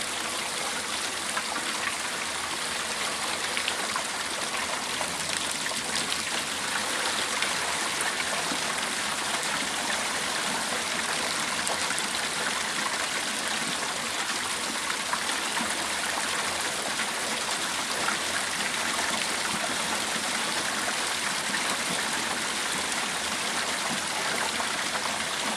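Water runs steadily through a newly installed house gutter and downspout on a home with angled fascia during a flow test, a continuous soft splashing trickle with no talk.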